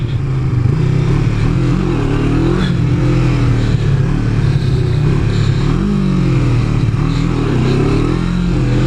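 Cruiser motorcycle ridden off road during wheelie attempts, its engine revving loudly and close, rising and falling through repeated throttle blips with a rough, throbbing tone throughout.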